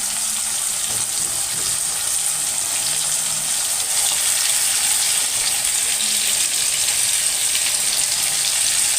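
Eggplants (brinjals) dropped into hot oil, a steady loud bright sizzle and hiss that runs unbroken from start to finish, close up, with no talking over it.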